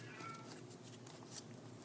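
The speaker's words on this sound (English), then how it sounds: "If you hear a cat in the background, that is Binks." A pet cat meows faintly in the background, a distant, soft cry heard under a quiet indoor room.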